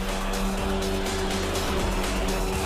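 A racing boat engine throttling hard out of a buoy turn, a loud sustained motor roar with a strong steady hum and rough low rumble throughout.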